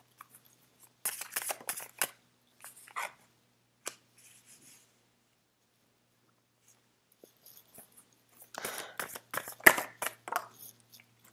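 Tarot cards being shuffled by hand, with cards jumping loose from the deck, heard as bursts of crisp riffling and flicking separated by short pauses, close and fairly quiet with no talk.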